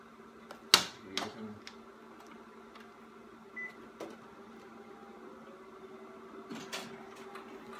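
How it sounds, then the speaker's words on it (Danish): A home printer at work gives a steady mechanical hum with a sharp clack near the start and a few scattered clicks and knocks, fairly close, with no clear speech. "Kan I se printeren?"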